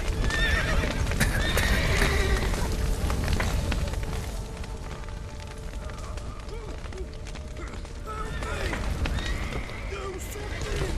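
In The Witcher 3: Wild Hunt on PS4, horses whinny and neigh over clattering hooves, with shouting and commotion in the background and a busy, layered soundscape.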